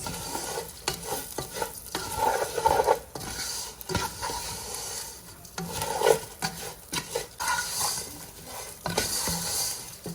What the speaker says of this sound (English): And we're going to fry this, stirring constantly for a good 5 minutes.